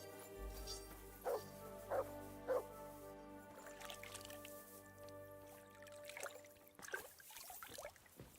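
Dog in the video game Kingdom Come: Deliverance II barking three times in an evenly spaced sequence, followed by softer yips and whimpers over a quiet musical background.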